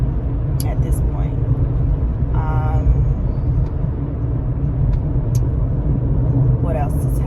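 Morning road traffic at 9 a.m. heard from inside a moving car gives a steady low engine and road rumble, with brief chirps and clicks above it and a voice talking over it.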